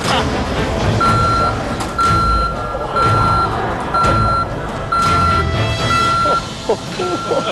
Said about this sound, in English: I hear the beeping around me.